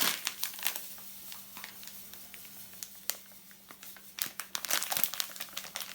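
Flour is shaken from a plastic bag onto a greased baking tin: light crinkling of the bag with soft, irregular patters and rustles, close and quiet, clustering into busier bursts near the end.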